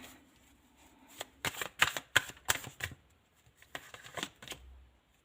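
Tarot cards are shuffled close up, a quick run of crisp riffling flicks in two bursts with a short gap between them, faint and alone.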